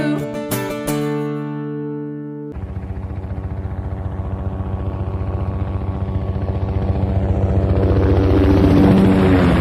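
A steady mechanical tone gives way to a rapid rotor thump that grows louder and denser, like a helicopter spinning up nearby.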